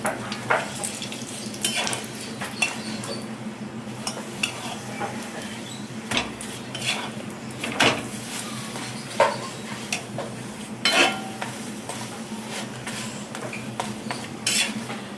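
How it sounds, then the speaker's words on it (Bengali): Parathas fry two at a time in a little oil in a home kitchen, giving a soft steady sizzle beneath sharp clinks and scrapes of a pan and utensil at irregular moments, with no talking. "তো চলো অল্প তেল দিয়ে পরোটা ভাজবো"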